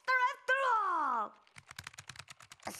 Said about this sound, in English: Stop the typing!